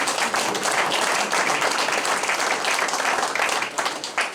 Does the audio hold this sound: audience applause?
yes